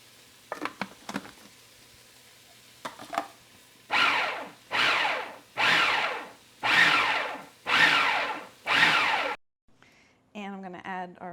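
A food processor pulses chopped liver with schmaltz in six evenly spaced bursts, each a loud, rough, one-second whir with short pauses between, preceded by soft clinks and followed by a brief voice.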